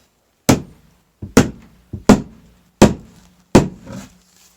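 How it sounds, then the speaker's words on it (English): Six separate hand-struck thuds pound something down, each sharp and close with a short ringing decay, spaced unevenly about a second apart with no talking. "Have to pound that down."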